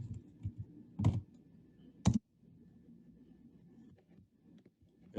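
Keys being typed on a computer keyboard, heard as soft, fairly quiet clicking through most of the stretch, with two sharper, louder key strikes standing out among them.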